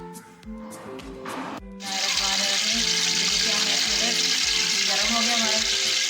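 Potato and onion pakora batter hits hot oil in a kadai and erupts into a loud, steady sizzle and crackle that fills the rest, after a quieter start with faint kitchen sounds.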